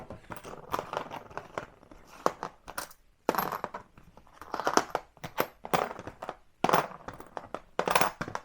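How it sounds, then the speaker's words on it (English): Coins are counted and dropped one after another, bright metallic clinks and jingles in quick uneven bursts with brief pauses between handfuls, close and fairly loud. "The coins, the noisy ones."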